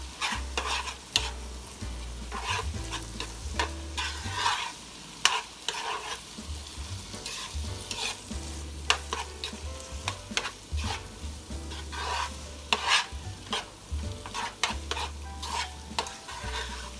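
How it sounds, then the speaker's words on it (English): A utensil scrapes and stirs scrambling eggs into cauliflower rice frying in a pan, with repeated close scraping strokes over a steady sizzle. "Starting to scramble, so I'm going to go ahead and just stir it in with everything else."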